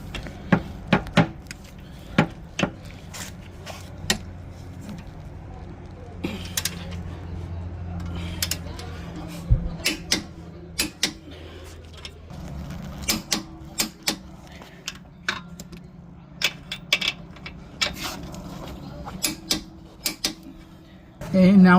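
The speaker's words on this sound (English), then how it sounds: "now we're going to go ahead and torque these" Intermittent metallic clicks and ratcheting of a torque wrench tightening strut bolts on a Toyota Highlander, sharp close taps scattered over a low background with occasional talk.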